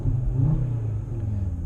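Inside the cabin of a 2018 Audi TT RS, the engine swells into a loud rev that eases back to a lower rumble, with no voices over it.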